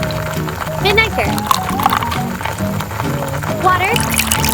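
Vinegar being poured in a tiny miniature kitchen, a short liquid trickle and splash set against a steady tonal backing of music.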